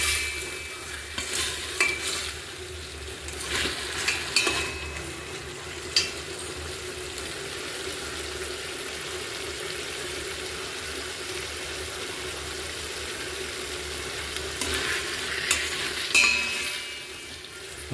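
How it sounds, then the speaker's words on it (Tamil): Tomatoes cooking in a pan with salt are stirred steadily, a soft continuous sizzle with scraping spoon strokes near the start and again toward the end. "அடி பிடிக்காத அளவுக்கு அப்படியே கிளறி"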